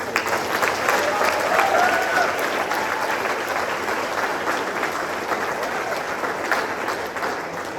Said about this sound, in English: let's have a round of applause again for these